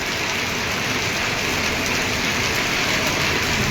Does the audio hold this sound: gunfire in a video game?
no